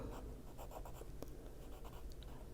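A pen taps small dots onto a Christmas-themed adult coloring page, giving soft, quick, close scratchy ticks in an uneven run.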